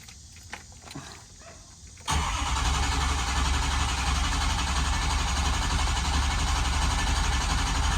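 A Ford 6.0 Powerstroke diesel with a high pressure oil leak and long hot starts is cranked; after two quiet seconds a loud, steady starter-and-engine drone begins abruptly and runs on without catching.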